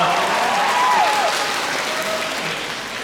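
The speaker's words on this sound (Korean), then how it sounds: "큰 박수로 맞아주시길 전하겠습니다" A theatre audience claps loudly at a musical's final curtain call, welcoming the actors on stage with dense, sustained applause that fades slightly toward the end.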